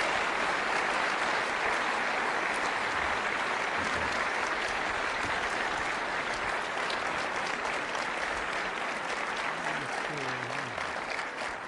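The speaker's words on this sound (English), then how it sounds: "Let's give him a big round of applause." Sustained audience applause for Senator Bob Dole at the Clinton School in 2004, a dense, steady wash of many hands clapping that fills the room for about twelve seconds, with faint voices murmuring underneath.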